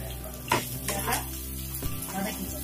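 Onions and two green chillies sauté in a pan for a ridge gourd curry, giving a steady close sizzle with a few sharp stirring scrapes and clinks, while low talk runs underneath.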